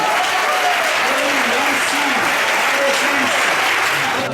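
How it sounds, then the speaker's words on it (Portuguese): A congregation at a Portuguese-language healing service claps loudly and continuously while a voice speaks over the applause. "pode aplaudir"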